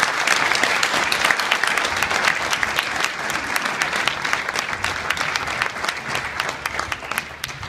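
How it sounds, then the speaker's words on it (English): An audience at a United Safety Council award ceremony gives a loud, sustained round of clapping for WESH TV nightside assignment editor Dave Ross, steady and close for the whole stretch. "Nice round of applause for Dave."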